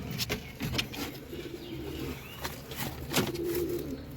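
Jalali pigeons coo softly in a loft, several low rolling calls rising and falling over a quiet background with occasional faint clicks and rustles.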